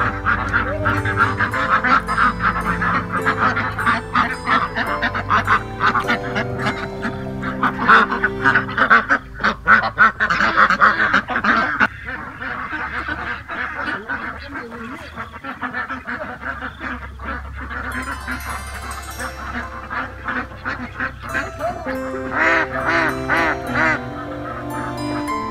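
A large flock of ducks quacks and honks continuously beside a fish pond in Tân Liên, a dense, overlapping chorus that stays loud and busy throughout.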